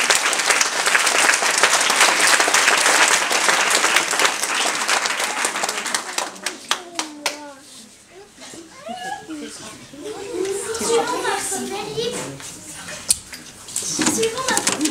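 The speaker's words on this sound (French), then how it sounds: "Veuillez applaudir Chloé et Emma." Audience applause at a children's performance show, dense and loud for about six seconds, then thinning out into scattered claps amid children's chatter and voices, with a brief burst of clapping returning at the end.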